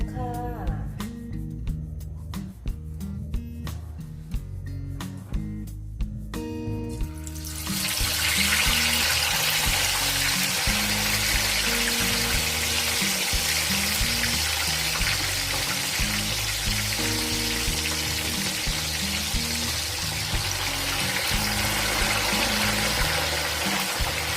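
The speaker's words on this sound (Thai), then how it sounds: "เดี๋ยวเรามาทอดกันเลยค่ะ ทอดปลากัน" Some clinking and handling, then tilapia fish hits hot oil in a pan and a loud, steady sizzle of frying takes over, with music playing softly underneath.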